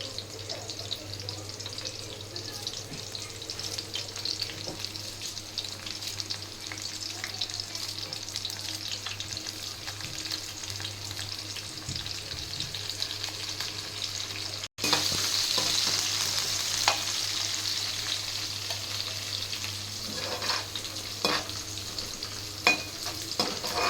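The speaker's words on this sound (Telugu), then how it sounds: "స్టవ్ మీడియంలో పెట్టుకొని ఫ్రై చేసుకోవాలా, మీడియం ఫ్లేమ్లో." Coriander fries in a pan over a medium flame for fish curry, a steady close sizzle with occasional stirring scrapes that grows louder and brighter halfway through.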